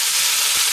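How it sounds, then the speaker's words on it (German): Meat sears in a pot on a grill with a bright, steady sizzle and hiss, close and continuous for a brief moment with no voices. "Ordentlich anbraten, bisschen drehen und wenden, dass von allen Seiten schön angebraten ist."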